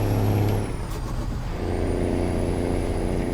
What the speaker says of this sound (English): I apologise if the engine's a bit loud.